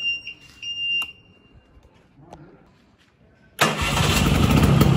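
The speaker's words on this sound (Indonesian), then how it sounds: "Kita akan coba nyalakan mesinnya." A 1993 Vespa Excel scooter's engine catches after a few short beeps and quiet clicks, then runs loud and steady close by for the final second and a half.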